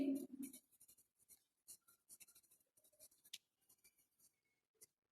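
Chalk or marker writing a number on a classroom board, a series of short scratchy strokes in quick bursts with brief pauses between them, close and fairly faint.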